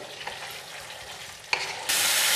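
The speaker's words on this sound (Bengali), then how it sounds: "এবারে আমি ভেজে রাখা আলুগুলো দিয়ে দিলাম ভালো করে কষিয়ে নিতে হবে" Already-fried potatoes are tipped into a hot pan and stirred for a taro curry, a short burst of close sizzling with a sharp scrape and a louder, steady hiss toward the end.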